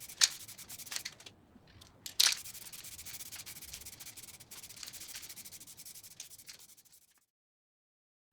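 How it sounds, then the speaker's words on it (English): Fine-grit sandpaper rubbing over a brass ring for ship's wheel hardware, a steady close scratchy hiss running for about seven seconds with a couple of brief sharper scrapes, then stopping into silence. "to get a decent finish I went through 10 different grits, starting at 180 and finishing at 2000"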